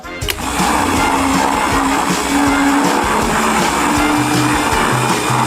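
A blender whirs steadily, churning an ice cream mixture of gummy candies and sour gel, a loud continuous motor drone with shifting pitch that starts abruptly and runs throughout.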